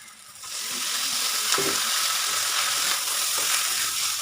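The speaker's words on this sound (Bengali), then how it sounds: "এই সজনার পাতা ভাজা ওরা খায় মাওয়াইরা" Drumstick leaves fry in oil with a loud, continuous sizzle close by, and a few soft stirring knocks.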